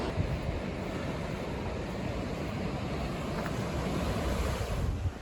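Ocean surf on the coast of South Africa near Hermanus, heard from a cliff path, rolls as a steady broad roar mixed with gusty wind noise and no voices.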